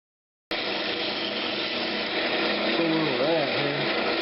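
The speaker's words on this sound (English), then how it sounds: "I'm just going to keep shaping on the outside" Bowl gouge cutting the outside of a Brazilian cherry lidded box on a wood lathe gives a steady, close, dense scraping whir that starts abruptly, with a voice talking over it near the end.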